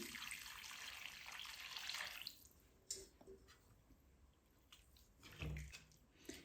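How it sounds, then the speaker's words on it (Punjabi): Hot water poured from a glass into frying masala for a cauliflower and pea curry, a steady close pouring splash with a brief hiss and sizzle, fading to quieter dribbles and a few splashes near the end. "ਇਸ ਵਿੱਚ ਆਪਾਂ ਇੱਕ ਗਲਾਸ ਗਰਮ ਪਾਣੀ ਐਡ ਕਰ ਦੇਵਾਂਗੇ"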